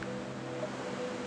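Steady wash of large waves generated at one-to-three scale in the 300-metre-long, 5-metre-wide Deltares Delta Flume wave tank, a continuous rushing surf roar with no speech.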